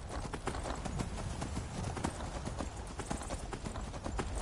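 Horse hooves clip-clop steadily at a brisk, even rhythm as a horse-drawn carriage travels in the Skyrim video game, loud and continuous throughout with no talking.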